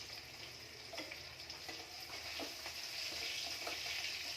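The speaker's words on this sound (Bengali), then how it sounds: "মাছ ভাজা দেখুন, মাছটা ভাজছি, গোটা গোটা মাছ আছে।" Whole fresh fish frying in a pan, giving a soft, steady sizzle with faint crackles and small pops, fairly quiet and without voices.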